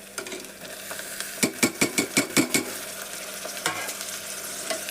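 Chopped tomato fries in hot oil in a pan, a steady sizzle broken midway by a run of seven or eight quick, loud stirring scrapes, then settling back to an even crackle.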